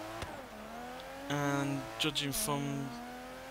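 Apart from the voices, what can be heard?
Aston Martin DB11 engine accelerating, from video game Forza Horizon 3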